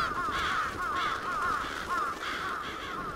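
Crows caw repeatedly in Bloodstained: Ritual of the Night, several harsh calls in a loose rhythm over a steady ambient backdrop, fairly close and loud with no talking.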